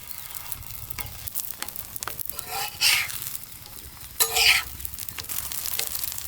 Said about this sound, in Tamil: தோசைக்கல்ல எண்ணெய் ஊற்றிடலாங்க.